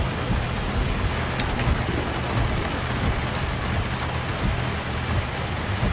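Steady, dense rain hisses without a break in the truck-driving video game 18 Wheels of Steel: Across America, a uniform wash with a faint low rumble beneath and no voices.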